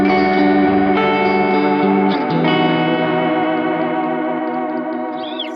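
A clean guitar feeds an Anasounds Utopia Deluxe delay pedal, its sustained chord and repeating echoes wavering in pitch, loud and continuous with no voices.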